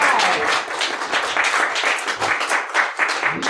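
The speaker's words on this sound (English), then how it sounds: "Janice, can we give Janice another round of applause?" An audience breaks into applause at a Black History Month program, dense crowd clapping that is loud and continuous throughout the brief stretch.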